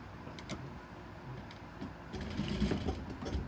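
A sewing machine stitches plush minky fabric for a cow stuffed toy, its motor whirring at an even pace and growing louder and busier toward the end, heard close up without any talking.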